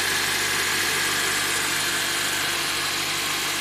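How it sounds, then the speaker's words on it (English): A car engine idles steadily after an oil change, left running without any throttle: a continuous, even mid-range hum and rumble with no revving, close by and without talk. "Don't hit the gas or anything, just let it run."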